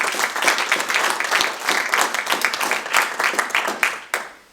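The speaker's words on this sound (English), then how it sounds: "A round of applause." A conference audience in Sheffield breaks into a round of applause, a dense, sustained burst of many hands clapping that continues evenly and tapers off right at the end.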